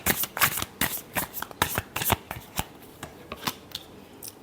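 Tarot cards being shuffled close up, a quick irregular series of crisp riffling slaps and flicks, quiet overall with no talking.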